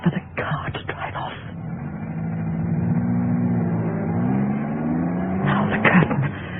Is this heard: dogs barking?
no